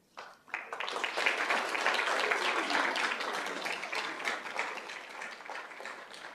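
Audience applause at a school governing board meeting, a sustained round of clapping from a room of people that starts abruptly and slowly tapers off.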